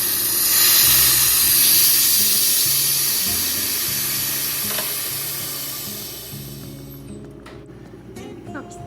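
A freeze dryer's release valve is opened, letting out a loud rushing hiss of air that starts strong and gradually fades over several seconds, tapering off with a few faint clicks at the end.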